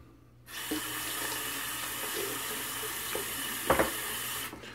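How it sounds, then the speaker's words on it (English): Steady broadband rush of a tap running water for a cold rinse of a shaving lather, starting abruptly and flowing continuously until cut off near the end, fairly close with a brief splashy surge. "Go ahead and cold water rinse"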